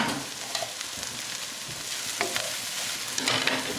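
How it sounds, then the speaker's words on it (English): Garlic and spring onions sizzle and fry in a pan for enchiladas, with a spoon stirring through them in steady, close scrapes over continuous crackling. "Let's toss in our garlic."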